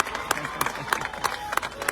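A crowd at a Hoshiarpur political rally for Navjot Singh Sidhu claps in scattered bursts, with several sharp clap peaks rising over a steady crowd murmur.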